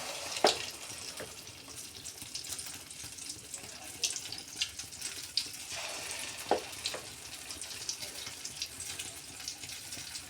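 Punukulu fritters made from dosa batter fry in hot oil, giving a steady, close, hissing sizzle scattered with sharp crackles and pops, with no talking.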